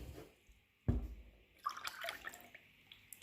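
Water is poured into a small cup as a quiet trickle with a sudden splash partway through, then continues with light dripping and splashing.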